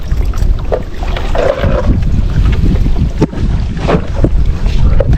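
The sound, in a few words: small boat on water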